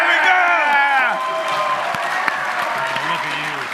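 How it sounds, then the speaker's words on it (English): A crowd applauds at a Giant Bomb panel at PAX East 2025, loud sustained clapping from a large audience, with voices talking over it throughout. "That was just applause because they wanted their kid to feel good."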